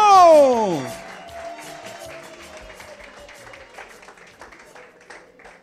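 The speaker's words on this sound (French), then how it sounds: "on va accueillir notre enseignant Douglas Ibanda sous vos acclamations" A falling musical whoosh opens, then an audience at a French-language show in Bunia breaks into applause for a teacher, rapid overlapping claps at moderate distance, tapering gradually over several seconds.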